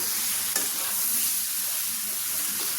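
Prawns and potatoes stir-fried in a pan for a desi-style prawn curry, a continuous close sizzle with occasional scrape of a spoon, no talking.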